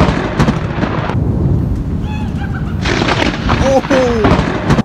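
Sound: thunder from a lightning strike

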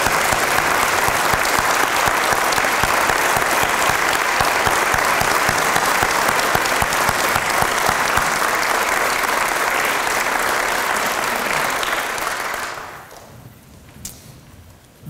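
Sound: audience applause for firefighters

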